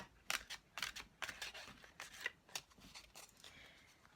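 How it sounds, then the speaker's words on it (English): A deck of goddess oracle cards is shuffled by hand up close, the cards giving a series of soft, crisp riffling swishes at an irregular rhythm, quiet and with no speech. "just want to shuffle these cards a bit."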